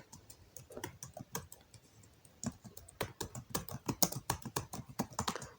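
Fingers tap out text on a computer keyboard while entering names into a Microsoft Excel date sheet, a quiet close run of uneven clicky keystrokes with a short pause before faster typing.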